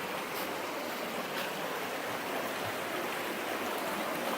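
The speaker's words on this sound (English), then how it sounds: "we're just walking along the river" A river flowing beside a hiking trail on the Appalachian Trail near Laurel Creek, Tennessee, makes a steady broadband rush that is continuous and fairly close, with no voices.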